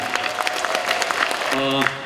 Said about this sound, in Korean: 우리 이병훈 의원님께서 박수 한번 보내주시기 바랍니다